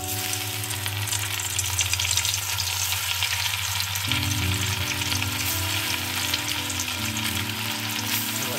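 Amodi fish fry in hot oil in a pan, giving a steady, loud broadband sizzle that runs unbroken throughout, with a low hum underneath and no voices.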